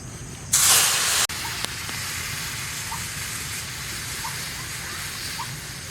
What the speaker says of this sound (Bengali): ভেজে নিয়েছি, এবার আমি দুধ দিয়ে দেবো।